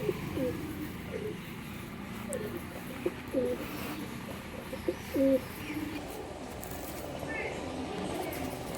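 Soft, low coos of Madras pigeons repeat in short phrases against a steady background murmur, with occasional faint chirps nearby.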